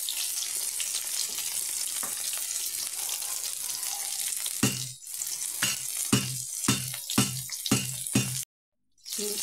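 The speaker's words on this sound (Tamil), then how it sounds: "கடுகு உளுந்தம்பருப்பு பொரிஞ்சு வரட்டும்" Mustard seeds and urad dal sizzle and splutter in hot oil for a kitchari, giving a steady hiss, then a run of sharp popping crackles before a short silence, close by.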